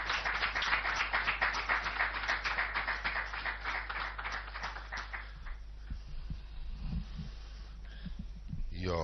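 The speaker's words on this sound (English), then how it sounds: "A round of applause," Crowd applause at a formal ceremony in Ghana as Honorable Elvis Afriye is invited to speak, dense steady clapping for about five seconds that fades out, with faint talk and hum afterward.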